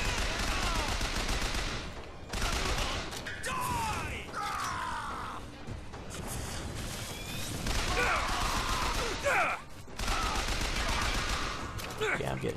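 Dense gunfire and machine-gun bursts rattle in Bioshock Infinite combat, close and loud, with mechanical clanks, crashes and yells layered over almost continuous shooting for the whole stretch.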